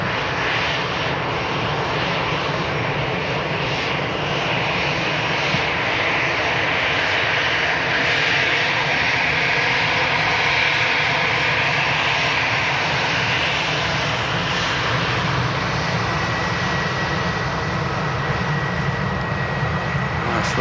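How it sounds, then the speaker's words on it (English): A British Airways airliner taxis at Manchester Airport, its engines giving a steady, loud continuous roar and whine that holds evenly throughout, heard at moderate distance with no clear talk. "BA taxiing to gate."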